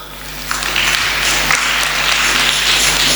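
A church congregation at a full gospel Sunday school in Libreville breaks into steady, dense applause that swells after a brief start and holds loud and close for a few seconds.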